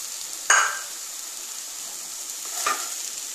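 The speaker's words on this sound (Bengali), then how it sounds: "আমি এবার ওটসটা দিয়ে দিচ্ছি।" Oats dropped into a pan of cooking vegetables and stirred, with a sharp scrape at the start and a second softer one two seconds later over a steady faint sizzle.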